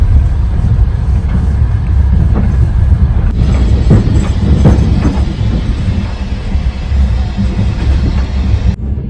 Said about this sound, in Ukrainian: Їдеш на поїзді, так?